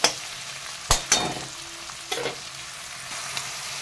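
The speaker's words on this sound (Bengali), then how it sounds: "একটু উপকরণকে ভালো করে একটু নাড়াচাড়া করে নিচ্ছি" Spices sizzle in a hot pan while a spoon scrapes and stirs, giving a few sharp strokes early and a lighter one later, close up.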